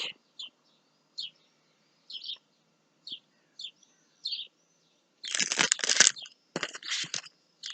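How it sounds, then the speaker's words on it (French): Small birds chirp outdoors in the evening, short bright calls repeating at intervals, then a burst of louder crunching rustle close by before the chirps resume. "les petits oiseaux sont là ce soir avec moi"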